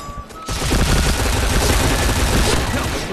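Rapid automatic gunfire from a weapon in a first-person shooter video game, loud and continuous for about three seconds after a brief quiet start, with a short beep at the outset.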